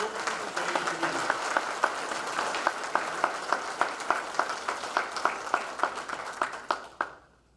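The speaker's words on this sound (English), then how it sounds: "Please join me in a round of applause for these Silver Brigade winners" Applause at a convention award presentation, a crowd clapping steadily with sharp individual claps standing out at a regular pace for several seconds before it stops abruptly.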